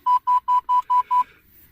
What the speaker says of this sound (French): Donc là il va se mettre à biper